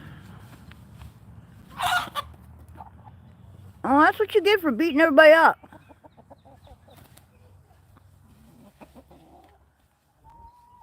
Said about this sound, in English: We're just hanging out with the chickens out here.